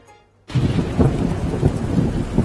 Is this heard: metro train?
no